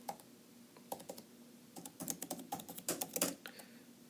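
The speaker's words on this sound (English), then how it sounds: "So I go back again and type my prompt." Keys clatter on a computer keyboard in irregular bursts as a prompt is typed, quickening and growing denser toward the end, close and clear with no talking.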